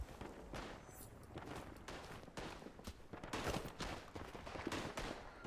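Scattered rifle shots and distant battlefield gunfire in the WWI shooter game Tannenberg, with irregular cracks spaced through the whole clip and a few louder reports near the end.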